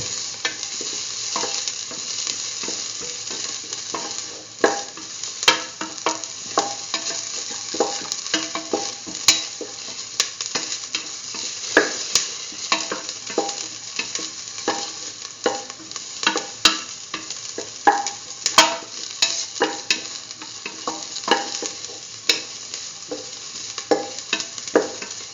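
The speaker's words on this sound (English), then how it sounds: "saute mix" Vegetables for a Hausa potato and soya chunk stew sauté in a hot pan, a steady close sizzle broken by frequent sharp clicks and scrapes of a stirring utensil, with no voices.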